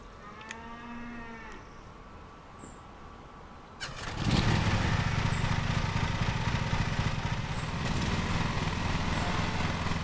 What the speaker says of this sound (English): we've got a different mower. Let's try this one out.